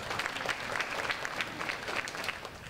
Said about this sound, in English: we'd like to applaud him